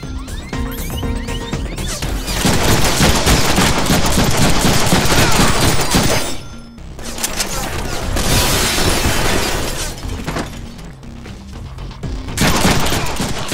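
Dense, loud gunfire from the Deadpool video game, sustained bursts of rapid shots with crashing impacts that ease off briefly before resuming.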